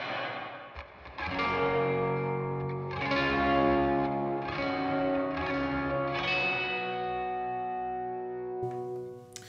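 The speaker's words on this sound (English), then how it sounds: "If I were to turn effects on, it would just be a little bit of reverb" An electric guitar with a light reverb effect, playing ringing sustained chords and notes in slow succession, clear and alone, fading out at the end.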